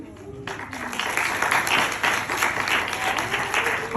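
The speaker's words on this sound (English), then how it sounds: "Give her a big hand of applause, please, because she is amazing." Crowd applause at a launch event, starting suddenly after a brief moment of quiet talk and swelling into steady, fairly close clapping that builds toward the end.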